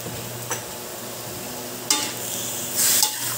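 Pork belly hamonado is stirred in a pan with ground pepper: a soft sizzle runs under a few scraping strokes, with one brighter clatter of utensil on metal near the end.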